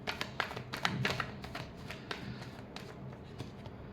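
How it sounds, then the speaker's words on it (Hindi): A deck of tarot cards is shuffled by hand at close range, a rapid run of papery riffles and light flicks that gradually slows and thins toward the end. "Last shuffle."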